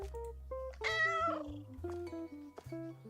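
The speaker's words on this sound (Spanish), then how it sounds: "Voy a tocar el gato otra vez." Video game cat meows when touched, a run of tonal, stepped meow-like notes with rising and falling pitch, clear and fairly soft against a quiet background with no talk.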